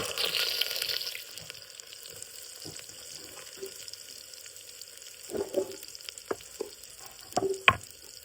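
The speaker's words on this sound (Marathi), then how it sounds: "लागलं जिरं लागलं उडायला, मोहरी लागली नाचायला" Mustard and cumin seeds spluttering in hot oil in a home kitchen while a brinjal dish is started, a steady close crackling hiss that breaks into sharper, louder pops toward the end, with no talking.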